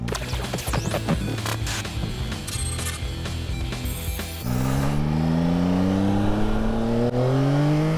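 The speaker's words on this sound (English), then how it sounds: "It's quite willing to let the bike rev a little bit." A Yamaha Tracer 9 GT+ motorcycle engine with mechanical clicking and whirring, then revving up with a rising, sustained tone that climbs in pitch, close and loud, no talking.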